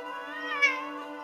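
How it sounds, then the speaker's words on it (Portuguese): A domestic cat gives a single drawn-out meow, close and clear, with a harmonic, slightly wavering tone that rises in the middle and fades out, with no talking over it. "Em línguas estranhas, este gato conversa e chega a fazer perguntas para mim."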